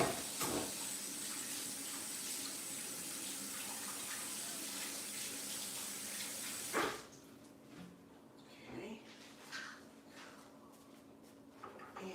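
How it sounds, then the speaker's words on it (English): Tap water runs steadily from a faucet as hands are washed in a home kitchen, a broadband rushing stream for about seven seconds that then cuts off, leaving quiet drips and a few soft clunks near the sink. "let me wash my hands"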